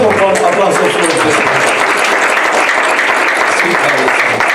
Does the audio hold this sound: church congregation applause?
yes